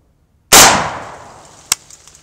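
A single sharp, loud gunshot from an AK-47-type rifle firing 7.62x39 full metal jacket through a floor, with a decaying indoor ring and a faint metallic clink about a second later.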